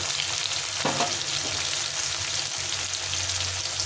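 A large chopped tomato frying with spices in a pan, a continuous close sizzle with a soft stirring scrape about a second in and faint movement of the pan.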